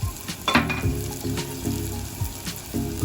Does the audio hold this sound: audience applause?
no